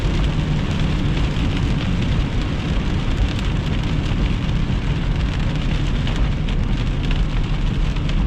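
Heavy rain during a thunderstorm under a low ceiling with fog, a loud steady downpour hissing and pattering on surfaces without pause.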